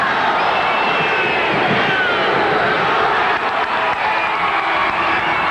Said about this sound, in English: You hear the crowd count it down.